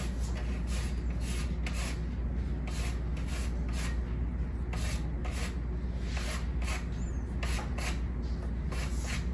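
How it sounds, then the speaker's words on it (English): Fresh lemon being zested with a hand lemon zester in a home kitchen, a steady run of soft, close scratchy rasping strokes in quick rhythm over a constant low background hum, with no talking. "So we're gonna zest it with a lemon zester."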